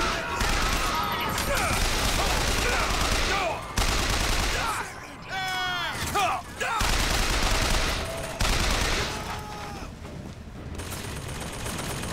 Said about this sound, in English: Daddy's got a machine gun